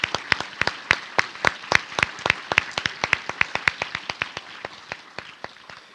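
Audience applause for newly presented graduates at a SIM diploma graduation ceremony: crisp, evenly spaced claps ring out in a steady, brisk rhythm for several seconds, fairly close and prominent with no talking, thinning and softening slightly toward the end.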